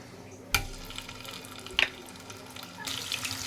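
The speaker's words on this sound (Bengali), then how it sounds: "এবার আমি এখানে সেদ্ধ করা আলুগুলো একটু ভেজে নেব" Boiled potatoes dropped into hot oil for a potato and kidney bean dish, a sudden burst of sizzling followed by steady frying crackle and a couple of utensil knocks.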